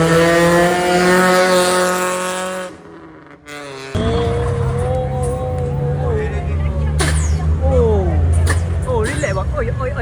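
A BMW drifts on a slippery road at night, its engine revving hard and its tires squealing in rising and falling sweeps, with a brief lull partway through. It is loud and close, and a crowd's voices and chatter sit underneath.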